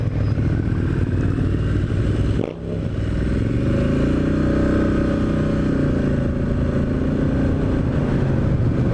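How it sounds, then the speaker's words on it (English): A Triumph Street Scrambler motorcycle being ridden gives a steady, close engine drone with heavy wind rumble, a brief dip and scrape partway through, then a rising rev as it pulls away. "On the Triumph Street Scrambler, trying this out."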